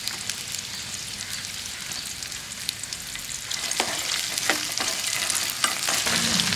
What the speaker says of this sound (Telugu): నూనె అయితే వేడెక్కింది ఇందులో మనం రేకాయలు కట్ చేసుకున్న రేకాయ ముక్కలు వేసుకుందాం ఫ్రెండ్స్ అవి కొంచెం దోరగా వేయించుకుందాం